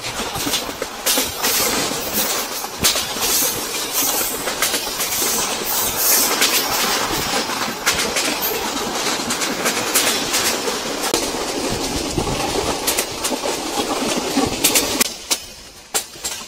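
A passenger train rolls steadily along in a continuous loud rumble and hiss, with rhythmic clickety-clack from the wheels over rail joints, heard from inside a carriage with no talking.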